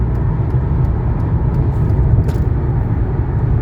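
A 1999 Mercedes S500 Grand Edition cruising on a highway at about 75 mph, giving a steady, continuous low road and engine rumble with broadband tire and wind noise throughout, close and even in level.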